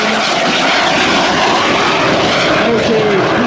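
Fouga Magister jet trainers of the Patrouille Tranchant fly past at the 2016 St Brieuc air show, giving a loud, continuous broadband engine roar that stays steady throughout.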